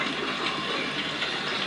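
A clogged toilet flushes with a steady, close rush of gushing water that runs throughout without a break or any talking.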